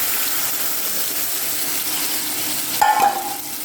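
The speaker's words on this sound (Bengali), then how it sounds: "এটাকে ভালো করে তেল দিয়ে ভেজে নিচ্ছি" Crushed garlic, chopped onion and chili fry in oil in a wok with a steady, loud broadband sizzle, then a sudden stir or scrape near the end that briefly swells the sound.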